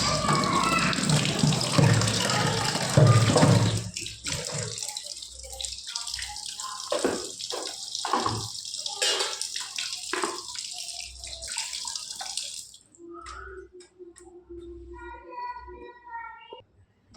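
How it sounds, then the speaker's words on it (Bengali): Tap water running and splashing while fresh fish are rinsed clean, a steady broadband wash with drips and handling knocks, loud at first and then thinning into scattered splashes and trickles near the end. "চলো মাছটা ধুয়ে নেওয়া যাক"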